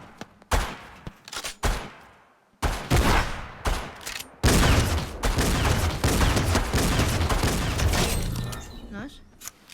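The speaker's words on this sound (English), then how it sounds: "But I'm mainly testing out the new shotgun." Shotgun fire in a video game on a creative map, with a loud blast opening and then dense overlapping bursts of close gunfire and impacts through most of the stretch.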